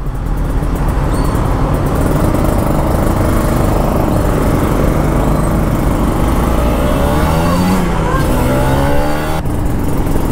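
Loud, close two-stroke motorcycle engine droning steadily while riding through rainy city traffic in Medan, Indonesia, with rising and falling revs near the end and a rider's voice briefly audible over the engine.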